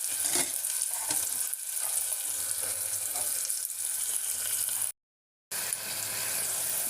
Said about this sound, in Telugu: ఉల్లిపాయలు కొద్దిగా వేగుతాయి కదా